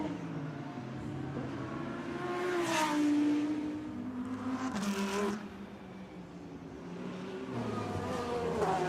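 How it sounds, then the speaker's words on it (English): A DTM racing car at the Norisring accelerating out of a turn, its engine rising and shifting through gears in two loud surges before a fainter third pull, heard from a distance. "the reason we love the sport we do is not only the sights, but also the sounds of these racing cars"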